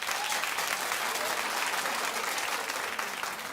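A studio audience at The Wendy Williams Show claps in a steady, dense wash of applause that holds evenly from start to finish without any break.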